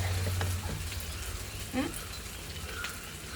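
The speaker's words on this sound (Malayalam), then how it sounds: "മുളക് പൊടി മല്ലിപ്പൊടി ചേർത്തു ഒന്ന് വഴണ്ടോട്ടെ" Onions sautéing in a pan with turmeric, chili powder and coriander powder, a soft steady sizzle with faint stirring scrapes, low in level beneath someone talking.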